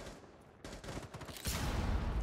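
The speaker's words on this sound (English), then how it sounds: "You shot me through the wall on the left." Gunfire in a first-person shooter video game, a burst of muffled automatic shots that grows louder and denser toward the end.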